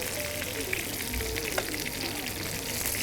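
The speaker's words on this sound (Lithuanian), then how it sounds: "Sudedame triušienos gabaliukus į puodą." Rabbit meat pieces fry in oil in a cast-iron pot, a steady, soft sizzle heard quietly from close by, with one faint clink partway through.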